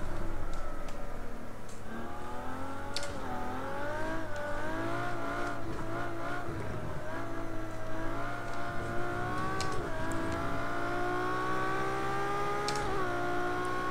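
A Ferrari LaFerrari engine in the racing game Project Cars 2, revving and shifting continuously with rising and falling harmonic whine, loud and close throughout, with no voices.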